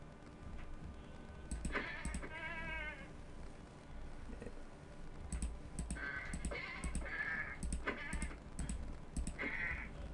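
Goats bleating in the Minecraft video game, several short bleats repeating through the clip over a steady game background, with clicking like keyboard typing mixed in.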